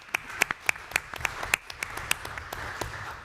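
A round of applause from participants at a roundtable discussion on Operation Warp Speed: scattered, sparse claps from a small group in a room, irregular and fairly soft, with a few sharper individual claps.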